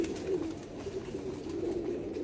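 Pigeons on a rooftop coo softly and repeatedly at close range over faint background noise.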